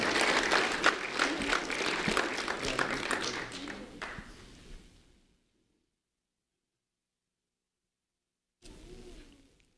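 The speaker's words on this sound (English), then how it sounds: "a round of applause for Jacob Klein" Audience applause breaks out at a school recognition event, dense and loud for about five seconds before fading into silence; a brief murmur returns near the end.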